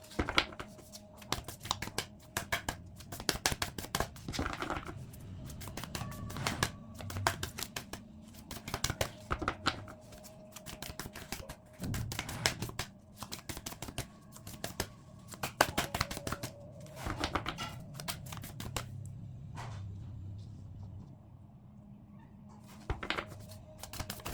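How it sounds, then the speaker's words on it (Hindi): Tarot cards shuffled by hand, a long run of crisp riffling flutters and snaps coming in bursts with brief pauses, close and fairly clear throughout. "इससे पहले मैं शफल कर लेती हूँ."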